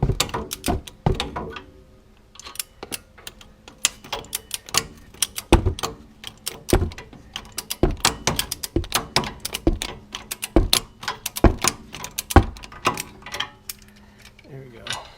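A socket on a swivel extension works a bolt loose on a Ford Crown Victoria wheel hub, giving sharp irregular clacks and knocks in quick bursts, close and fairly loud.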